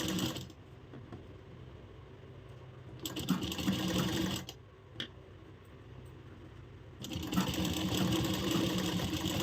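A sewing machine stitches lace onto a blouse with a fast, rattling mechanical whir, running in bursts with brief pauses between them, close and fairly quiet.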